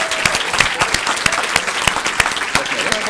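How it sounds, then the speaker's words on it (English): An audience claps for students at a university graduate research competition finals, with dense, even applause, sharp individual claps standing out, and no voices clearly heard. "Let's give all of our students a round of applause and congratulate them."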